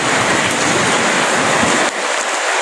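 Heavy rain falls outdoors while a group heads home, a loud, continuous broadband wash of drops with a brief dip near the end.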